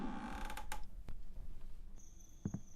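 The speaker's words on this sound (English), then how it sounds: "And door." A door in a horror video game creaks open with a drawn-out, faint creak, followed by a few sharp clicks and a thin high ringing tone, heard alone and quietly.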